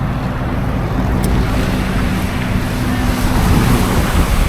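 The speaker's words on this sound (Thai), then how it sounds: "แก๊งเจ็ตสกีนะครับโอ้ สุดยอด มาเป็นแก๊งเลยนะ" A group of jet skis races along the Bang Pakong River, their engines a steady, wind-buffeted roar blended with splashing water throughout.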